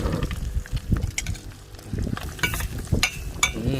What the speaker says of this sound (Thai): ทอดไข่ในหม้อ